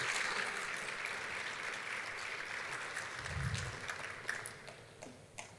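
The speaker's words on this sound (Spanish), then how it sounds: "No, pero les dije que aplaudieran fuerte al Señor." A church congregation applauds in a sustained, fairly faint wash of clapping that stays steady throughout, with no voices standing out.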